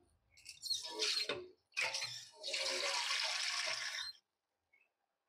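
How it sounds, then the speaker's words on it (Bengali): Water is poured into a cooking pot to thin the curry broth for lentil fritters made with elephant foot yam, heard as several close splashing gushes in separate pours before going quiet. "আর একটু জল দিয়ে দিলাম।"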